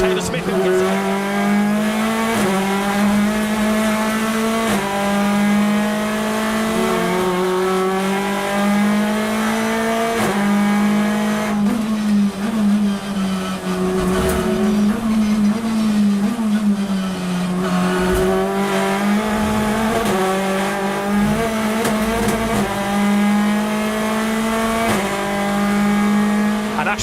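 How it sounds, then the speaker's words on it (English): BTCC touring cars race at Snetterton heading down towards Redgate, their engines a constant loud roar with rising and falling revs and gear shifts, while a commentator talks over the racing. "Ash Sutton's having a go for 8th on the outside of Gordon Shedden as they come down towards Redgate"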